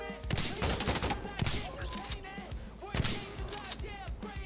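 Shotgun blasts fired from the hip in the shooter Insurgency Sandstorm, several sharp booming shots spaced about a second apart, each followed by metallic pump or reload clatter.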